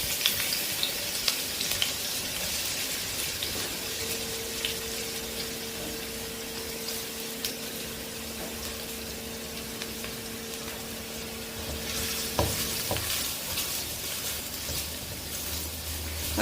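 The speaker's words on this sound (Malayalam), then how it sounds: "അതിലേക്ക് സവാള ഇട്ട് കൊടുക്കാം." Onions sizzle in hot oil in a pan for egg fried rice, a steady close crackling hiss with a faint tonal hum in the background midway.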